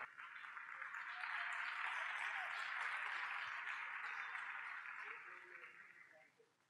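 Audience applause at a film festival award ceremony, a dense wash of clapping that swells, holds steady for several seconds and then fades, heard at moderate distance in a large hall.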